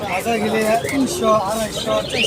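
Pigeons coo steadily at a busy pigeon market in Fatullah, Narayanganj, the soft throaty calls layered and continuous under nearby voices talking.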